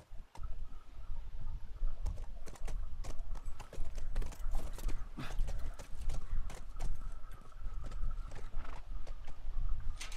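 Horse hooves in The Last of Us Remastered: continuous rapid clip-clop of a ridden horse, fairly close, over a dense backdrop of rustling and game ambience, no talk.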